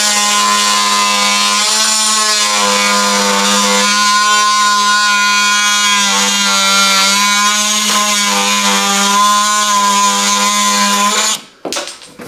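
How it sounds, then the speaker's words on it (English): A power sander works across wood for a tiered planter stand, producing a loud, steady motor whine that runs without a break for about eleven seconds, then cuts off abruptly at the end. "I can sand all the rest of this up."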